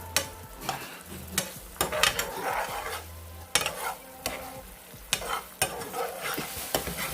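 General Tso shrimp fry loudly in a pan on high heat, a constant crackling sizzle broken by sharp clacks of a utensil stirring against the pan, close up.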